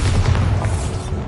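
A Bombarda blasting spell explodes in Hogwarts Legacy, a loud, deep booming blast with a rumbling low end filling the whole short moment.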